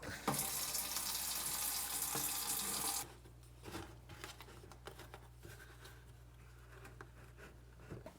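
Water from a tap runs loudly and steadily while filling a Lifesaver jerry can during trip prep, stopping abruptly after about three seconds, leaving a quiet low hum with faint handling clatter.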